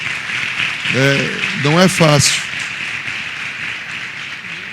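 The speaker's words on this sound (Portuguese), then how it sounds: "Por favor, um aplauso para o apóstolo" Audience applauding an apostle at a church youth congress, a steady wash of clapping beneath a voice speaking briefly.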